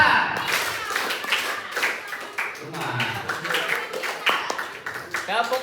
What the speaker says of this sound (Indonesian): Ulangi, tepuk 4.